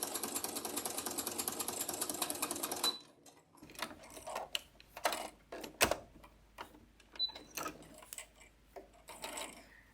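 A sewing machine fitted with a walking foot runs a straight stitch, joining quilt binding strips. It hums steadily and loudly for about three seconds, then stops and leaves quieter handling noises and small clicks.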